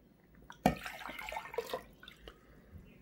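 A short splash followed by a few seconds of quiet trickling as water is poured into a small cup, faint and close.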